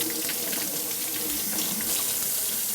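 Fresh vegetables for salsa being rinsed under a running kitchen tap, a steady close splash of water into the sink lasting throughout with no pauses.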